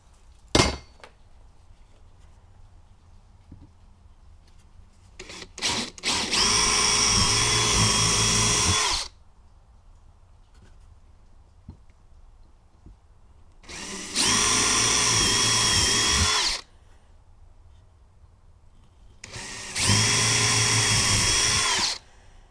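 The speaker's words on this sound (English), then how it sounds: "we're going to pre-drill holes here for these guys." A power drill whirs in three sustained bursts pre-drilling holes for a garage extension cord reel install, each a few seconds long, separated by quiet pauses with faint handling clatter.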